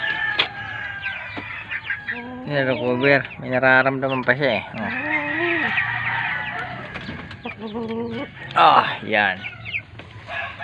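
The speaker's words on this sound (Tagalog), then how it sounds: "Ito yung isa nating manok na" Farm chickens cluck and squawk up close in repeated bursts, with a voice speaking in between and over the calls.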